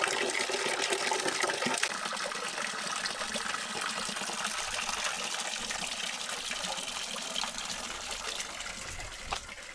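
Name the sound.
well water running into buckets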